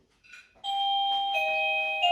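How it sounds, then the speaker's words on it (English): A house doorbell rings during a dog's mat-training session. A short faint tone is followed by a loud, sustained electronic two-tone chime that rings clearly, close and alone. "So can you ring the doorbell again?"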